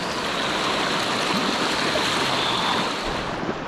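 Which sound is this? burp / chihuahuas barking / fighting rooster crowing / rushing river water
rushing river water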